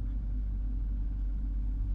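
A tired, worn car engine drones steadily from inside a fully soundproofed cabin, a deep continuous rumble with a faint higher whine above it.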